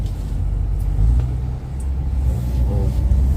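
A Toyota Veloz accelerating, heard from inside as a low, steady engine and road rumble that swells slightly, continuous and fairly loud, with no talking.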